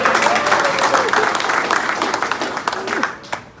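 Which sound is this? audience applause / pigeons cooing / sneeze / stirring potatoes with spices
audience applause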